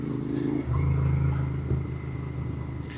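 Royal Enfield 650 twin motorcycle engine on the move, a steady low rumble with a deeper surge partway through as the rider pulls along, fairly close and without talk.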